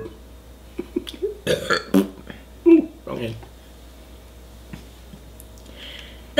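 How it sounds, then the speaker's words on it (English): A loud burp after a taco feast, rising from the low end among a few other short eating noises and brief vocal sounds, with quiet room tone around it. "Burp."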